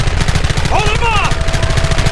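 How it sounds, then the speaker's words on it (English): Rapid, loud gunfire from the Red Dead Redemption video game, a steady rattle of repeated shots running throughout, with a brief shouted voice partway through. "Stop shooting at me!"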